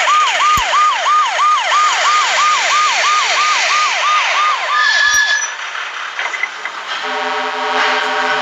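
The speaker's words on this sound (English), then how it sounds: "Here's the police car. Go." Police car siren from the Duck Duck Moose More Trucks children's game, a loud rising-falling wail repeating about a dozen times, then fading into brief electronic game chimes and tones.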